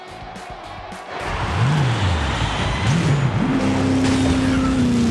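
Hot Wheels toy cars racing on a Track Manga track, including a Bone Shaker and a Batmobile, with rising and falling revving race-car engine tones that build and hold loud and steady over a noisy background.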